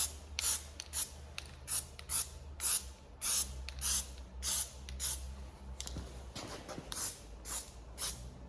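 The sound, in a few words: spray painting a light coat on Golf GTI parts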